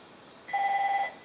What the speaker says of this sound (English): And now my phone rings.